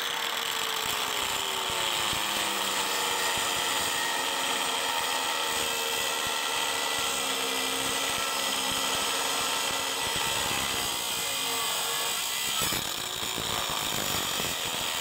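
A cheap Harbor Freight angle grinder cuts through a stock exhaust flange during a budget turbo log manifold build on an LS engine. It gives a loud, steady, high-pitched whine with a dense grinding hiss that runs throughout, and its tone shifts near the end.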